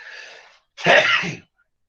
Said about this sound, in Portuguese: O meu espirro é bem discreto